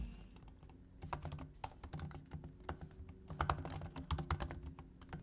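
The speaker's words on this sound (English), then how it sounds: "while typing, the sound produced is a bit mushy and just rather off-putting" Rapid, soft clicking of a 2019 MacBook Pro's keys being typed on, an irregular close-up patter with a slightly muted, mushy quality.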